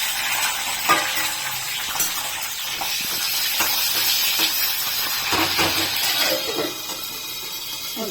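Vegetables and small green chillies fry in a pan with a loud, continuous sizzle and hiss, broken by scraping stirs and occasional crackles close by.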